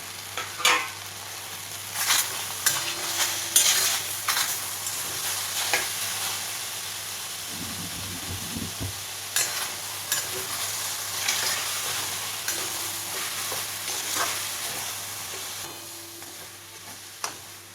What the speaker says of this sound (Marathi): कैरी आणि गुळ एकजीव होतोय तोपर्यंत ना मी असं हलवून घेते